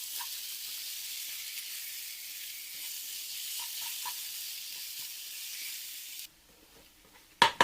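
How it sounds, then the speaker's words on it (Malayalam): Chopped tomatoes frying in a pan for egg roast, a steady close sizzle with faint stirring scrapes that cuts out near the end before a few sharp clinks. "ഇനി ഇത് നല്ലപോലെ ഇളക്കി മിക്സ് ചെയ്തെടുക്കണം."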